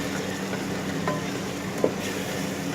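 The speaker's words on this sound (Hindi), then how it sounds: "ये देखें मसाला जो है हमारा अच्छे से भुन रहा है।" Masala sizzles as it fries for chicken karahi: a steady, fairly quiet crackle with faint stirring scrapes and one small clink.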